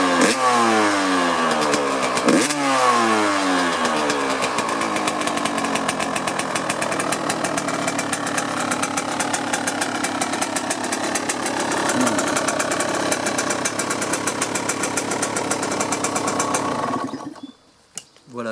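A cold Yamaha YZ 125 motorcycle from 2000 revs up close and loud, its two-stroke engine climbing and falling in pitch before settling into a steady buzzing high rev, then cutting off abruptly near the end.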